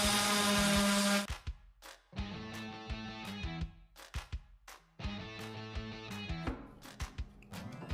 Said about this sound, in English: Here I am sanding the epoxy, just roughing it in